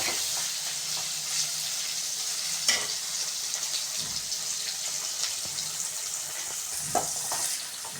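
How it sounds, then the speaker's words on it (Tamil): Ingredients being sautéed with salt in a pan for a South Indian sankara fish curry give a steady close sizzle and frying hiss, with a few scraping stir knocks and no talking. "ஸோ இது மாதிரி நல்லா வதக்கிக்கோங்க."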